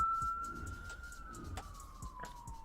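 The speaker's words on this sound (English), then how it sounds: "Don't mind the siren going off outside." An emergency siren going off outside carries in as a single sustained tone that slowly sags in pitch, fairly faint and distant, over soft scattered low thumps.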